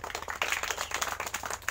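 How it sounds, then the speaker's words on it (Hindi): Group of children clapping for a classmate at a village community outreach gathering, a steady patter of many small hands, fairly faint and continuous. "वेरी गुड, इनके लिए ताली बजाए।"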